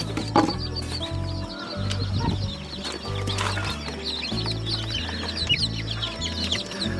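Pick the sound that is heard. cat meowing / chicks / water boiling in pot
chicks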